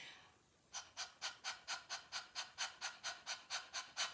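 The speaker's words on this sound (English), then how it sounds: "the panting" Rhythmic panting breathing exercise: a quick run of about fourteen short, sharp, evenly spaced breaths close up, starting after a brief quiet moment.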